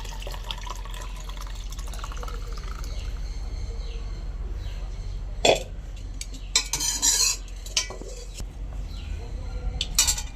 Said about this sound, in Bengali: এবার এই যে কড়াই থেকে হাঁড়িতে ঢেলে দিচ্ছি।